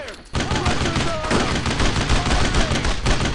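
Sustained gunfire in the World War II video game Brothers In Arms: Road To Hill 30, with dense rapid bursts of rifle and machine-gun shots rattling loudly and continuously after a brief quieter start.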